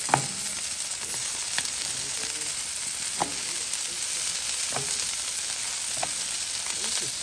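Tortillas sizzle on a Blackstone griddle while chicken gyros are being cooked. A steady, close frying hiss runs throughout, broken by a few sharp clicks and scrapes.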